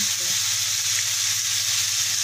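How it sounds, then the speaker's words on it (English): About 120-130 grams of bacon frying with onions in a pan for bacon and cheese griller subs: a dense, even, loud sizzle that holds steady throughout, with no talking. "So I'm just gonna fry that as well quickly with the onions."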